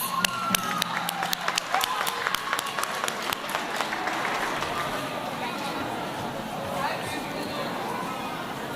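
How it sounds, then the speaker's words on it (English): An audience at a Native American school honoring ceremony applauds, a dense, loud wash of clapping that starts crisp and distinct, then blurs into steady applause with scattered cheers and voices throughout. "let's give him a round of applause"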